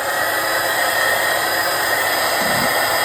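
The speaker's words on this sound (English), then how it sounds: "whether it's a hairdryer or a heating tool." A hair dryer or heat gun warming clear coat blows continuously with a steady, even whoosh and a faint high whine, loud and close, no talking.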